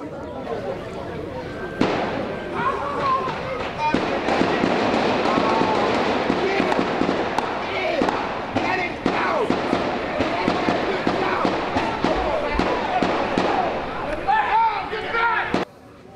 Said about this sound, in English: You just heard another number of gunshots.